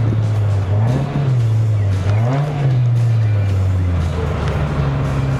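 A manual Toyota Vios 1.5J NCP93 with a five-speed gearbox revs hard climbing the Genting hill road in Malaysia in the rain, its engine droning loud and close and rising and falling in pitch through gear changes.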